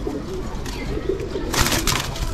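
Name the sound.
pigeon cooing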